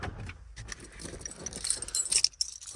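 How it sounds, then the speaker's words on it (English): Keys jangle close by for a few seconds, a bright metallic clinking that grows busier toward the end, with no talk over it. "Keys."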